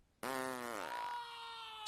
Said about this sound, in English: Screaming and farting compilation.